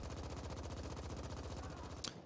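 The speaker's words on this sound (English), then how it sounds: "just laying into him with the SMG is definitely a smart way to take him out" Rapid SMG fire in The Ascent, a cyberpunk top-down action game: a fast, steady stream of shots running loud and close throughout, ending in a sharp burst before stopping.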